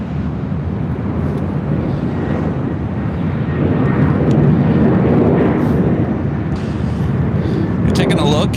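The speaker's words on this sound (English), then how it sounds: "Next arrival on the north side, Southwest Airlines flight 1950, coming in from Denver, Colorado, and a 737-700" A Southwest Airlines Boeing 737-700 jet arrives at LAX from Denver with a loud, steady broadband engine roar that continues for the whole stretch, swelling slightly in the middle, while a person talks over it.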